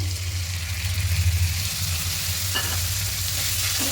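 Rohu fish kalia masala with yogurt and cashew paste being stirred as it fries in a pan, a steady low frying hum under faint scraping, one clearer stir around the middle, no talk.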